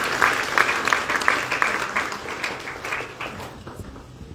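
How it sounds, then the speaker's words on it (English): An audience at a conference applauds after a keynote introduction, a dense burst of clapping that holds for a few seconds and then thins out. "Please give her a round of applause."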